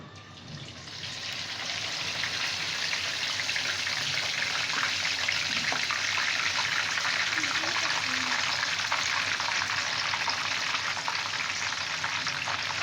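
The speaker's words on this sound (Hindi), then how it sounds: "अब इस चरगे को हम ऑयल के अंदर डालेंगे।" Whole chargha chicken frying in about half a litre of medium-hot oil, a loud, continuous sizzle that rises in the first seconds and then holds steady and close.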